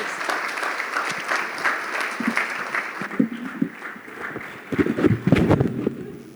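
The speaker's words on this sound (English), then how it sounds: "A big applause to Dr." An audience at a book launch event applauds a co-author taking the stage, a dense burst of clapping that swells and stays strong with louder bursts near the end.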